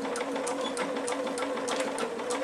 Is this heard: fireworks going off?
no